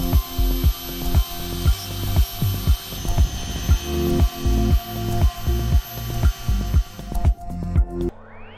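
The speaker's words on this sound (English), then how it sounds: "So let's move on to the CNC." A CNC machine mills a part, producing a rhythmic series of loud, regular mechanical thumps and ratcheting pulses about twice a second over a steady hum, stopping abruptly near the end.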